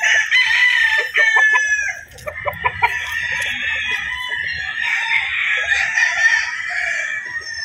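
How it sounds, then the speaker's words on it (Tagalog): A rooster crows loudly and close, long strained calls repeated with clucking fowl and other chickens in the background, at a gamefowl conditioning flying pen. "Ang ganda ng manok ni Sir Bibo eh."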